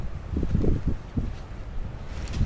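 Wind blowing outdoors and buffeting the microphone, with heavy low rumbling gusts that swell and fade and no one talking.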